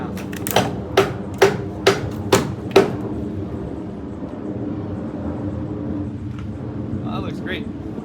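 A hammer drives nails into standing seam metal roofing on an A-frame cabin: six sharp, evenly spaced ringing blows close by, then the work stops and faint background sound continues.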